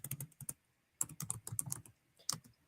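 Quiet, close clicks of typing on a computer keyboard, coming in quick bursts of keystrokes separated by short pauses, with no voices.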